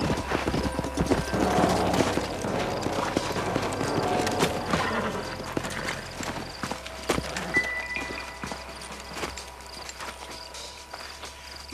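Horse hooves clip-clopping in the Western video game Red Dead Redemption, a steady stream of hoofbeats over ambient outdoor noise with insect chirps and a faint whinny.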